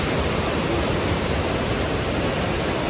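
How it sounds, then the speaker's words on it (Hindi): A river rushes past on a mountain road trip toward Bir Billing, its steady broadband roar filling the whole clip evenly and close, with no voices over it. "रिवर की आवाज़ सुनो कितनी सुनूंगी"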